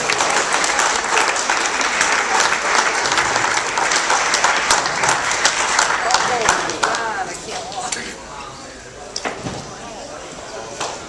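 Sustained audience applause at a horror convention Q&A, loud and dense, thinning out toward the end with a few scattered claps.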